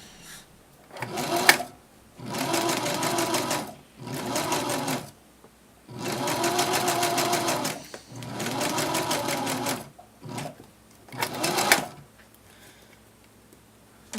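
A sewing machine stitches the neckline of a cosplay dress in several separate bursts of fast, close mechanical whirring, with short pauses and brief taps between runs.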